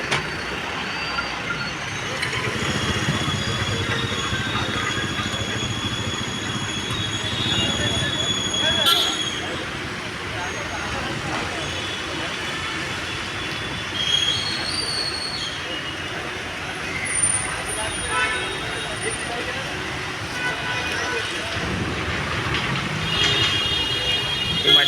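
A rally vehicle travels along a rough road with a steady broadband rumble of engine and tyres that lasts throughout, while people talk over it.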